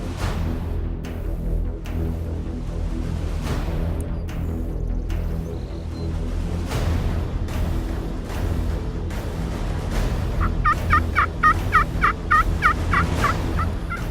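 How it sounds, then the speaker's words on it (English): Rio Grande wild turkeys gobble in the South Texas brush, a run of loud, repeated gobbles arriving in quick bursts late in the stretch over steady low background noise; earlier only faint calls carry from a distance. "And all of a sudden, Seth spots 3 gobblers coming."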